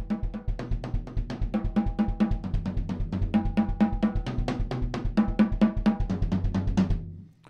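Drum kit played in rapid hand groups of four strokes with a bass drum kick between each group, a steady loud driving pattern for about seven seconds with no talk.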